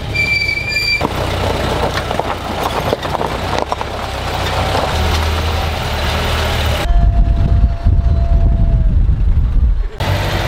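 A vehicle drives along the road toward Kodaikanal, giving a loud, steady rumble of engine and road noise with rattling that holds through the whole stretch.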